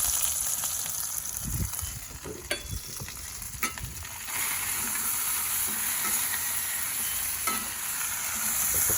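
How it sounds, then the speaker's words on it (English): A burger frying in plenty of grease and butter on a Big Green Egg grill, giving a steady loud sizzle and crackle throughout, with a few sharp pops and a brief scrape of a spatula or spoon near the start. "So you can see it's cooking in quite a bit of grease and butter there."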